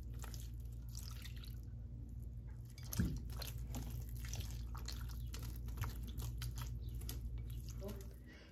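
Quiet trickling and dripping of water into conch fritter batter, with a soft splash partway through and faint background hum.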